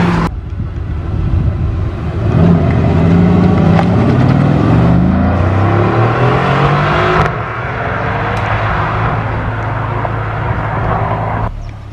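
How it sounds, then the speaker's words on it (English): A Mercedes-AMG GT R drives off from a Cars and Caffeine meet at Combermere, its engine revving loudly and nearby, then pulling away with a strong rising roar and settling to a steady drone as it departs. "I think the departure of the AMG GTR may be imminent."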